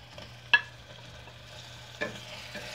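Tomatoes and onions cooking in a pressure cooker pot, a soft low sizzle with a sharp spoon scrape near the start and another later, a faint steady hum underneath, no talking.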